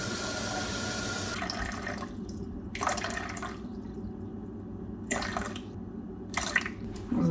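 Room-temperature water is poured from a tap into a plastic bowl for sourdough in several short bursts, each a bright close splash separated by quieter gaps of kitchen hum.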